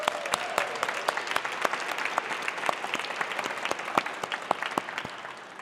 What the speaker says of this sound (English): So just one big round of applause and moment of love for those 2, Lisa and Jarix.